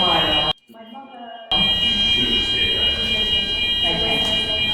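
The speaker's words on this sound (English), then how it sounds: "I don't know if that's a real fire alarm" A building fire alarm blares continuously during a networking breakfast event, loud, high and steady, dropping out briefly near the start before resuming, while a person keeps talking over it.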